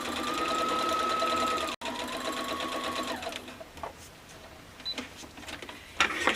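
A sewing machine stitches quilt pieces for a mini quilt, its motor humming in steady runs of stitching, a pause, another run, then quiet handling and small clicks near the end.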